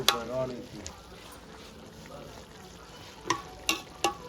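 A ladle scrapes and stirs through cooked radish dhokli in a full pot, with a few sharp clanks against the metal toward the end.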